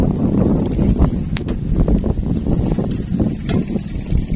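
Strong wind buffets the microphone with a continuous loud roar and rumble, plus occasional faint rustling.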